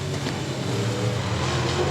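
Race cars roar around the Boothill Speedway oval on the opening lap, making a continuous loud engine drone with shifting pitch as the pack runs close together.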